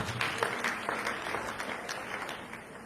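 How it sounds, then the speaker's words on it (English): Applause from an audience at a girls' technology event, modest clapping at moderate level that carries on steadily for a few seconds with a faint voice underneath. "Let's give her a round of applause."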